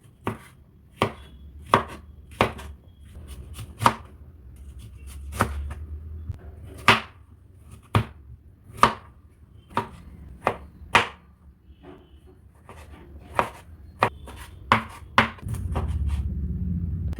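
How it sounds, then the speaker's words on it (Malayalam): A knife chops cucumber, onion, carrot and tomato on a board: about fifteen crisp, separate knocks at an uneven pace, close and clear, with quiet handling in between. "വെജിറ്റബിൾസിനെ ഓരോന്നായിട്ട് നമുക്ക് ചെറുതായിട്ട് കട്ട് ചെയ്തെടുക്കാം."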